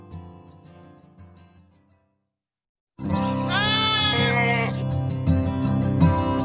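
A sheep bleats loudly with a wavering, harmonic cry, set against steady background noise after a quiet stretch at the start.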